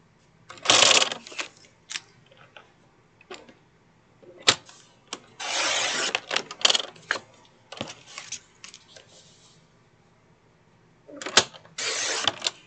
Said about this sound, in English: I'm going to cut 4 pieces at 1/2 inch by 12